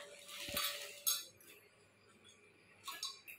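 Small metal pots and a lid clink as they are handled, with a few bright, separate metallic knocks rising over quiet room noise.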